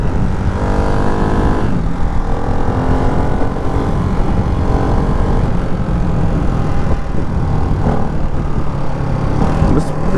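Ducati Hypermotard 698 Mono single-cylinder motorcycle engine dropping a couple of gears, a steady close, loud drone with shifting harmonic pitch and brief blips, plus some wind rush.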